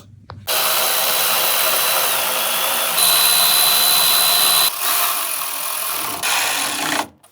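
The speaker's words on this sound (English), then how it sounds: "Clamp soft, drill the last 4 holes" A power drill whirs loudly and steadily, its pitch shifting slightly as it bites through metal, pausing briefly twice before stopping.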